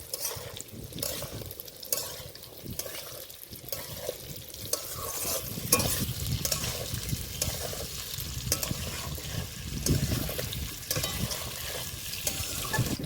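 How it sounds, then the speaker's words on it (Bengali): Boiled jackfruit pieces frying in a pan, a soft sizzle under repeated stirring and scraping, growing louder and busier partway through, close with no talk. "এবার আমি ভেজে নেবো"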